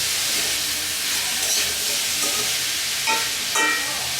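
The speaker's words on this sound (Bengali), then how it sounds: "দুই মিনিট পর পর একটু নেড়ে দিব দেখি কি অবস্থা হয়ে যাবে" Pumpkin slices frying in a pan with black cumin, a steady broad sizzle with occasional soft scrapes as the pieces are stirred now and then; no voices.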